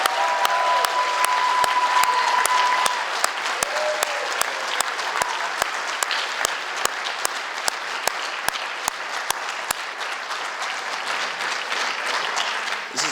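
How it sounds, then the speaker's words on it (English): A school audience at a high school student achievement night applauds award recipients: sustained, dense clapping with sharp individual claps popping out, fairly loud and continuous for over ten seconds, gradually thinning slightly toward the end. "one more round of applause for all of our award recipients this evening"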